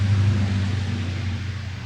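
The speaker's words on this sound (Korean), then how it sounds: "지금 큰 차가 지나갔습니다." A large vehicle goes by outdoors, a heavy low rumble that is strongest at first and then slowly fades under steady road and wind noise.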